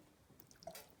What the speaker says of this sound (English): I heard it drip, and that's good enough for me